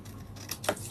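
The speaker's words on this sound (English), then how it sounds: "The second one, you're going to cut on the left side. You're going to trim it off" Scissors snip through a paper sewing pattern printed at home, with a couple of soft, close cuts and a sharper final snip in a quiet room.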